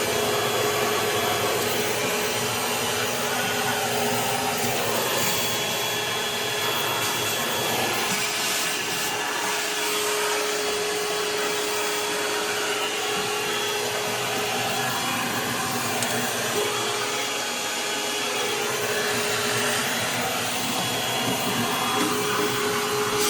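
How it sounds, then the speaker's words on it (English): Shop vacuum running steadily throughout, sucking debris out during a service plumbing job on Long Island, with a constant loud whine and rushing airflow, scraping and rubbing as the nozzle works, no talking. "we'll get this vacuumed out as well"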